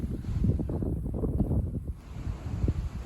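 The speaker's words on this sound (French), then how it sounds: "là, il y a encore un petit peu de vent" Lingering wind after a storm gusts against the microphone in a low, uneven rumble and buffeting that rises and falls continuously, with no speech heard.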